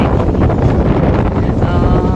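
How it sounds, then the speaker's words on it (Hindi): Strong wind blows across sandy farm fields in an Indian village, roaring steadily and loudly as it buffets the microphone for the entire clip. "लेकिन हवा चल रही है"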